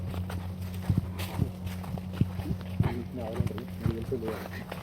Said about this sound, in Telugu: ముంగట ఆవులు ఉన్నాయి.